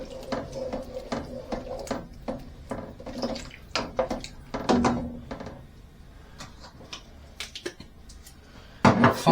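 A wild rabbit stew is stirred in a pot, giving scattered close clinks and scrapes of a utensil against metal in an uneven rhythm, with quiet pauses between bursts.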